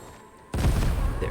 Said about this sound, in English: And I can just move over to this here and then finish him with grenades.